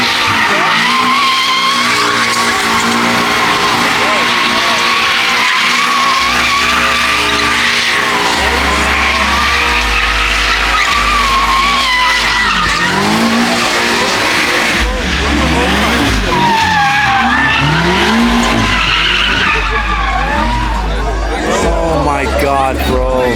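A BMW M5 CS howls through burnouts and donuts at a car meet takeover, its tires squealing continuously over a loud revving engine, with a crowd murmuring and people talking nearby.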